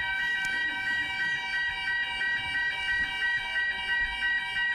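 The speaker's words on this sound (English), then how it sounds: "It's on my aftershave that sets off the fire alarm." A fire alarm sounds continuously during a Game of Thrones convention Q&A panel in Wales, its steady electronic tones pulsing loud and unbroken for several seconds with no talk over it.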